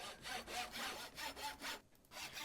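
Crafting at a tool station in modded Minecraft Stoneblock makes a quiet, rhythmic rasp like a saw cutting wood, with about seven even back-and-forth strokes.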